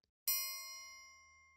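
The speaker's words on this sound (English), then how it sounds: "the sound of a bell" A single bell struck once, ringing out with a bright metallic tone and a long, slowly fading sustain, heard alone without talk.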